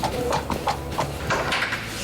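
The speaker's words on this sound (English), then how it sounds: "Today, Jack and co-driver Chris Crane are at the Stobart stables in Cheshire to get the horses on board" Horses' hooves clip-clop at a stables in Cheshire as they are loaded onto a truck, giving a steady run of close, fairly loud hoof strikes with no talking.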